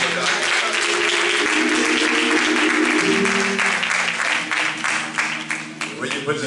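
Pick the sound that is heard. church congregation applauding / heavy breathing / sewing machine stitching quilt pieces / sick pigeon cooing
church congregation applauding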